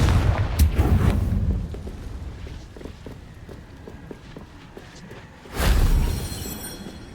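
Fire spell explosions in Hogwarts Legacy: a loud burst opens, followed by scattered thuds and crackles, then a second strong blast near the end, with game ambience between.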